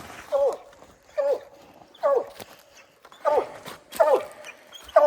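A hunting hound bays at a raccoon up a tree outdoors, giving six loud spaced barks about once a second with quiet gaps between them.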